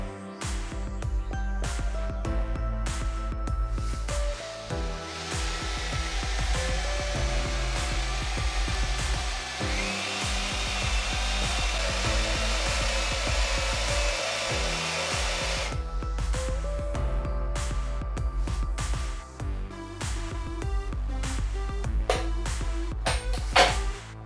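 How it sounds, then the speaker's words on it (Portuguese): A drill cutting a recess into wood with a Forstner bit, a steady loud whining motor with a rising pitch in the middle, continuous for over twenty seconds with short pauses and clicks near the end. "Fiz um arrebaço em duas etapas usando broca Fosner."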